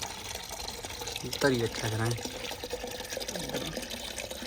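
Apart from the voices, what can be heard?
water filling a container for pigeons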